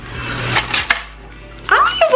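Metal cutlery clinks and rattles as pieces are picked up from a drawer, a few sharp close chinks with light handling noise between them.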